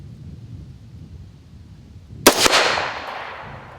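A single sharp rifle shot cracks out during 3-gun rifle zeroing at an outdoor range, followed by a rolling echo that fades away after a quiet background.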